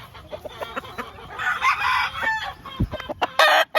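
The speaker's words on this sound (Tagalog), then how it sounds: "Dito ang manok." Chickens cluck in a backyard coop, with a rooster crowing loudly near the end, all close by over some faint background noise.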